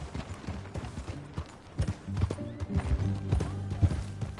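A horse's hooves clip-clop at a walk in a video game, the uneven knocking steps growing busier and louder toward the end, with no voices.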